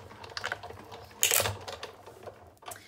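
A die-cutting machine presses through cardstock, a short run of light mechanical clicks and rattles with one slightly louder crunch in the middle, close by and with no talk.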